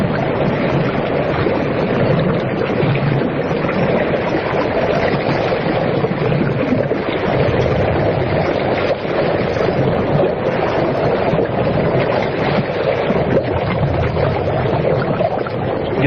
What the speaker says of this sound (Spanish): Nos parece el mar con una serie de ecos muy extraños de fondo.